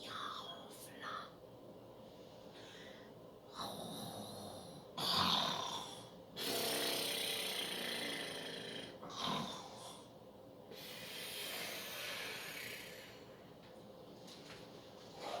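A voice imitates Santa Claus snoring: a series of close, drawn-out snores and snorts with breathy inhales, separated by short quiet pauses.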